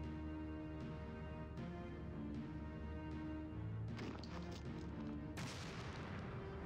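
Booming explosions and blasts in the video game Grandia II, sounding as several bursts over a sustained musical background, with a heavier crash near the end.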